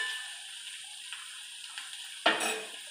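Onions fry in a pan with a steady soft sizzle, light stirring scrapes throughout and a sudden louder hiss near the end.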